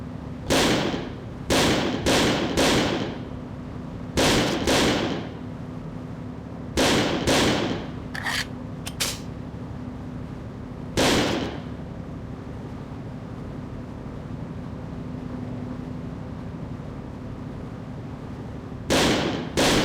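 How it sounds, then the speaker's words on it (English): A gun firing at a shooting range in the video game Second Sight, sharp single and paired shots spaced irregularly with quiet gaps between, loud and close over a low steady hum. "take this ammo and fire it all into the range"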